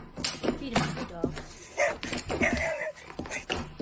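A dog barks and whimpers in short yelps and whines, close and fairly quiet, mixed in with talking in a story sound effect.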